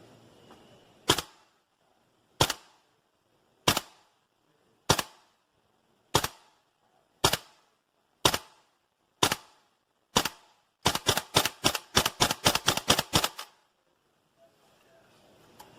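A Tokyo Marui AKM gas blowback airsoft rifle fires 0.3 g BBs, with about nine sharp, evenly spaced single shots and then a fast burst of rapid cracks, close and loud with quiet gaps between.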